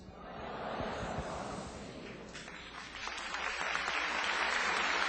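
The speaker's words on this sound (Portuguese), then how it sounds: "Beleza, aplaudindo a palavra." A church congregation applauds after the Bible reading at a Catholic community Mass, sustained clapping from many hands that swells toward the end and fills the room at a moderate level.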